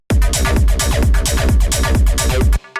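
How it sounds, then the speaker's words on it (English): A TB-303 acid synth line with chorus switched back on, playing a busy, driving sequence of squelchy notes over a heavy thumping low end, loud and close throughout before cutting off abruptly with a brief tail. "You can hear the 303 sounds a lot better with the chorus."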